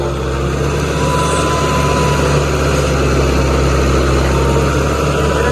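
A heavy 4x4 tractor engine idles steadily and loudly, a constant low rumble with no breaks.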